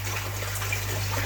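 Steady water pouring from a pond filter outlet, a continuous close gushing and splashing wash that holds an even level throughout, with no voices.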